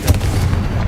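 A Confringo fire spell blast from Hogwarts Legacy, a single short booming burst with a heavy low thump, loud and close, tailing off within a second.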